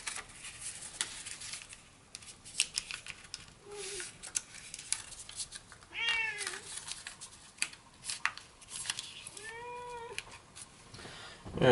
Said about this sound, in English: You're a noisy little kitty, you know that?